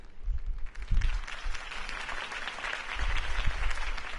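Crowd applause in the video game Batman: The Telltale Series, clapping swelling and fading in waves over a steady roar of many hands, with a faint voice or two underneath.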